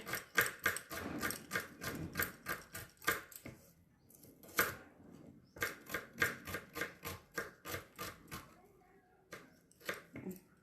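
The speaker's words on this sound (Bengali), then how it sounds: "পেঁয়াজ কাটা হয়ে গেছে" Onions being chopped with a very sharp knife on a board at home while cooking chicken curry, quick irregular runs of crisp close taps with short pauses between bursts.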